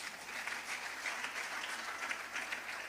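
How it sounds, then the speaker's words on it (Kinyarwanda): A church congregation applauds, a steady wash of many hands clapping at moderate distance, fairly faint and continuous throughout. "Komera Imana amashyi."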